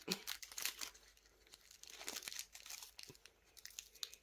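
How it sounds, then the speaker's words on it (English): Sticky tape being peeled off a resin mold for druzy crystal trinket bowls made with silicone inlays, giving quiet close-up crinkling and tearing rustles in short irregular bursts with no voices. "I can't get that tape off."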